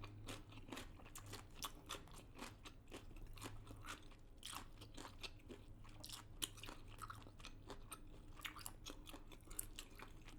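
Someone chews crunchy pickled radish together with chewy rice cake right at the mouth, with rapid wet crunches and bites in an irregular rhythm, quiet and close, without speech.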